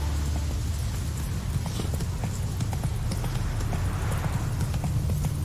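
Geralt's horse Roach from The Witcher 3 gallops in a continuous, close drumming of hoofbeats over a low ambient rumble.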